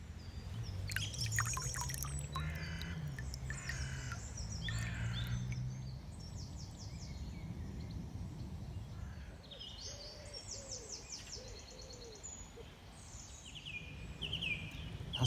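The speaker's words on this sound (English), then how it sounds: "As the song thrush continues to sing in the background" A song thrush sings repeated bright phrases in the background beside a small pool during an angling session. The calls sit fairly distant over a steady low outdoor rumble and some close handling noise at the start.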